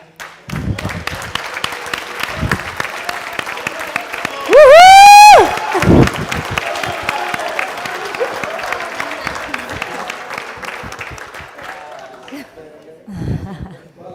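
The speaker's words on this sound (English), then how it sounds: "I actually want you guys to clap hands for my colleague who got his PhD in December" Gala dinner audience claps for a colleague's PhD, a brief swelling burst of applause and cheering with a whoop, fading into scattered chatter and room murmur.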